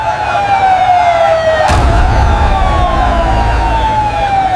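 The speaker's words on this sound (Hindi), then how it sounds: "सायरन करीब आ रहे हैं।" Several sirens wail together over heavy low engine rumble, loud and steady, as if vehicles are drawing close.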